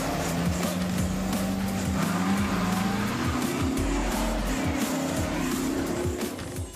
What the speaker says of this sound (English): these cars spin out of control